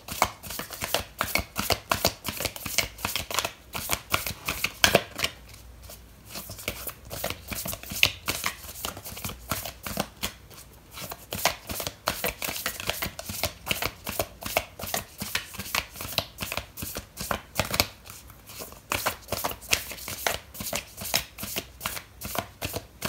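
A deck of tarot oracle cards is shuffled up close in a steady, rapid riffle of crisp papery flicks that runs almost continuously, with brief pauses between passes and no talking.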